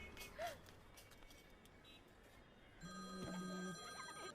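Telephone ringing in a Bollywood action movie scene: a faint electronic ring pattern emerges partway through under a quiet, busy background, with softer tones and bits of sound earlier.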